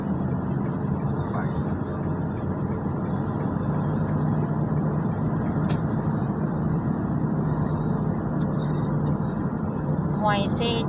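A car cruising along a long road trip gives a steady, loud rumble of engine and road noise inside the cabin, continuous throughout while people talk over it.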